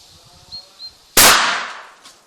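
A large Demon Big Bang firecracker, set off like a homemade grenade, goes off in a single loud, sharp blast that fades in a long rumbling tail after a few faint chirps.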